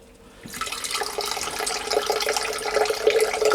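Water begins to gush about half a second in and flows steadily, growing a little louder, as a beer line is rinsed through until clear in a garden pub shed bar, with no talking.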